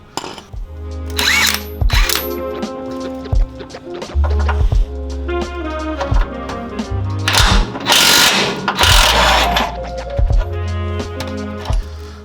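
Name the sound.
power tool loosening a big bolt on a lower control arm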